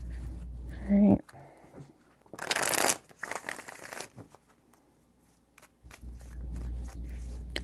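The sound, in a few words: shuffling tarot cards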